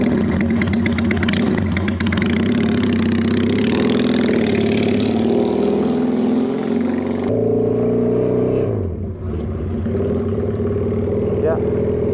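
A Benelli PE250 Bobber motorcycle engine rumbles steadily up close with wind noise, then shifts and dips as the bike rides off, with a voice briefly audible.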